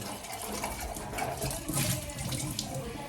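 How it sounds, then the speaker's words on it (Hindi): Water runs from a tap into a metal lota pot, a steady, close, rushing splash that keeps going with little change in level throughout. "अभी मैं इस लोटे में पानी भर रही हूँ"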